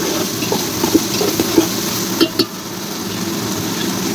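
Ginger, garlic and coconut masala for dum biryani frying in a pan, a steady soft sizzle with a few light clinks of stirring scattered through it, close and unbroken by talk.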